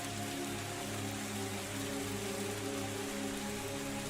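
Steady rain falls on surfaces in a video game tavern, a dense continuous patter layered with faint background music, soft and unbroken throughout.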